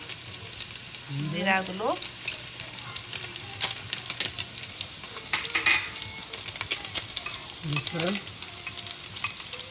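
Chicken frying and being stirred in a pan for Nepali-style thukpa, with a steady sizzle, scraping utensil strokes and clinks, while a voice talks briefly over it.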